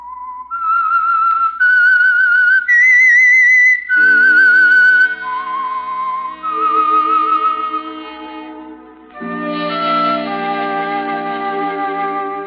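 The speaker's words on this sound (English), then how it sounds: "That whistle is your signal for the Signal Oil program, The Whistler." A clear, solo whistled melody, the theme of The Whistler radio drama, rises through a sequence of sustained notes, then falls and ends with a lower harmonized musical chord joining in.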